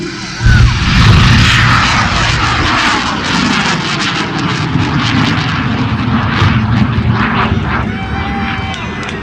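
A model rocket motor ignites at a launch meeting of amateur astronomers, a sudden loud roaring rush that holds for several seconds with crackling bursts, with voices faintly beneath.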